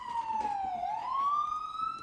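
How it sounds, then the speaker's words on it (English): A single New York City police siren wails, sliding down then rising again in a smooth sweep, clear and fairly close with no talking. "In New York City, the Wailing Siren is part of the Symphony of the Streets."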